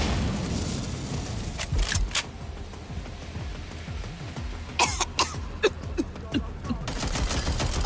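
Gunfire in Watch Dogs: Legion, with scattered shots and short bursts cracking over a busy, rumbling game backdrop, growing denser toward the end, mixed with grunts or coughs.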